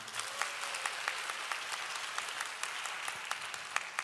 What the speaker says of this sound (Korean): 너무나 뜨거운 박수로 환영해 주셔서 감사합니다